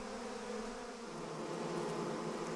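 African bees buzzing in a steady, continuous drone, a low, even hum that stays level and fairly quiet throughout with no voices.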